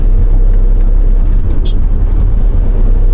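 A Suzuki Raider motorcycle engine drones loud and close, a dense, steady low rumble that holds evenly for the whole few seconds.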